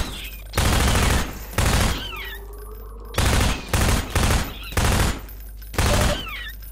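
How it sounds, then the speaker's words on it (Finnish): Bursts of automatic gunfire from a weapon in the video game Half-Life 2, about seven loud rapid volleys separated by short pauses. "Siis tää on maailman paskin tää pyssy."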